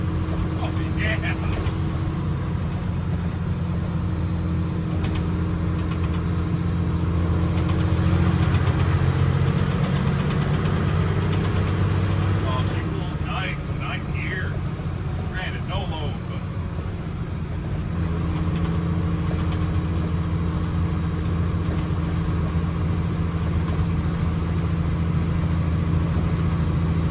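An L10 Cummins turbo diesel with bigger injectors, in a Ford LN9000 truck, idles with a steady low rumble while people talk over it, the engine rising slightly for a moment midway.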